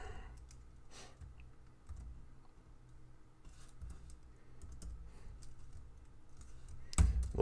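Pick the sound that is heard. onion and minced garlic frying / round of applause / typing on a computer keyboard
typing on a computer keyboard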